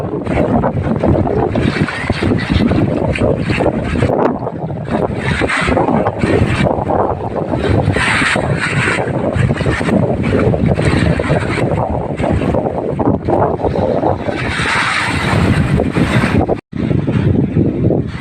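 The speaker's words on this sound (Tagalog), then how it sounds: "kahit malakas ang alon" Loud, continuous rush of rough sea waves at Barangay Sampiruhan and wind buffeting the microphone, a heavy unbroken roar throughout.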